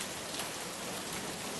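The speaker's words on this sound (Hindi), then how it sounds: "सुबह से शाम हो गई है लेकिन बारिश रुकने का नाम नहीं ले रही है" A downpour of heavy rain gives a constant, even roar of drops, loud and unbroken, with no speech.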